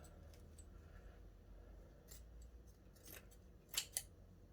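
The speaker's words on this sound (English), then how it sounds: "It's not so easy to cut with my rubbish scissors because it's got embroidery on it." Scissors snipping through embroidered sinamay fabric, two quick, crisp cuts near the end after a few softer snips, close and fairly quiet against a low room hum.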